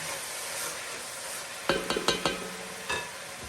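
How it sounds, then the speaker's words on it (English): Sofrito hits a hot pan for a Bolognese sauce, giving a few sharp crackling bursts of sizzle and stirring over a low frying hiss, fairly close, with no talk. "let's go ahead and get our sofritos in"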